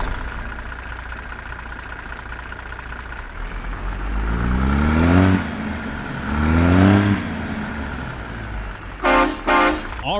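A heavy truck engine, a C16 in a Peterbilt 389 in American Truck Simulator, rumbles at idle, then revs up twice in strong surges, followed by two short bursts of a horn or air release near the end.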